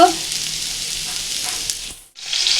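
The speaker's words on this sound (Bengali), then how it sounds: "কয়েকটা মাছ ভাজা বসিয়ে দিয়েছি" Several fish fry in a pan with a steady, close sizzling hiss that cuts out for a moment near the end and then resumes.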